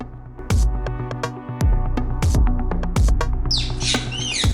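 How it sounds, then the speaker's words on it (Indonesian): Bali myna (Leucopsar rothschildi), an endemic Balinese starling, sings in bright chirps and whistles over a steady harmonic musical backing, with a dense burst of rising calls near the end. "Salah satu keunikan burung bernama Latin Leucopsa rothschildi ini adalah kemerduan kicauan dan bentuk tubuh yang menawan"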